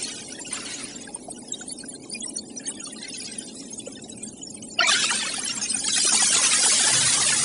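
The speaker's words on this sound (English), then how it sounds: "As these particles ping into spacecraft and other orbiting instruments, they pick up a signal that sounds like this." Signal picked up by spacecraft instruments as charged particles from the sun strike them: a low crackling static hum that jumps abruptly to a brighter, louder hiss partway through and stays there.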